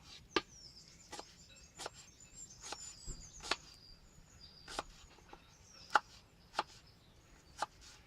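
Onions being chopped with a knife on a board, a series of about a dozen sharp, distinct chops at an uneven pace, close and fairly quiet, with faint outdoor birdsong in the background.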